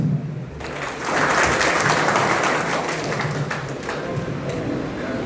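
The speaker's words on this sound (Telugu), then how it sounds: "క్లాప్స్." An audience at a district police Arrive Alive program for drivers bursts into sustained applause, a dense wash of many hands clapping for several seconds after a brief pause.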